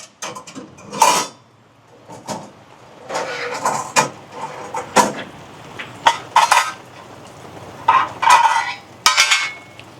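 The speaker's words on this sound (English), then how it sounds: "before it gets too hot, I'm going to take this pan out of here" Metal water pan being pulled out of a Cuisinart COS-330 vertical smoker, giving a series of close metallic clanks, scrapes and rattles in uneven bursts with quiet pauses between them.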